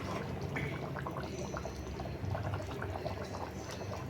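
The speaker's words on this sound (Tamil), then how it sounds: "இந்த குழம்பு எடுத்து இப்படி கொஞ்சம் மேலே விடுங்க" Fish curry (kuzhambu) being poured over fish in a simmering pot, giving a continuous bubbling, liquid wash that stays steady and close throughout with no voices.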